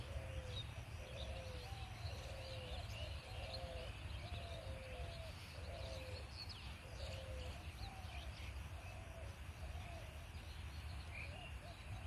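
A distant bird calls repeatedly in short, evenly spaced phrases over a faint outdoor background hum; no one speaks.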